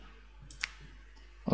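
A computer mouse gives a single faint click, then a brief soft knock at the end, quiet against a low steady room hum with nobody speaking.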